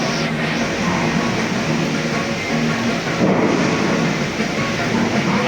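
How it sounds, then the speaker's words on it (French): A loud, steady roar of heavy rain and rolling thunder fills the scene, continuous and close, with no speech, heard from a tram ride at Disneyland Paris. "C'est l'orage."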